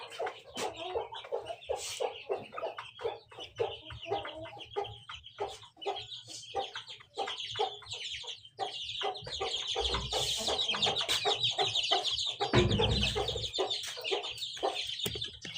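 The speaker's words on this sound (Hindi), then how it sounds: "बाकी यहाँ पर चूजे घूम रहे हैं।" Chickens and chicks cluck and peep steadily around a village yard, with many short overlapping calls close by and a brief louder rustle near the end.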